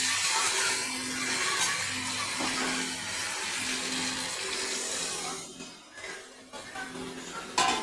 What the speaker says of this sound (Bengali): এখন আমি পরিমাণ মতন জল দিয়ে দেবো।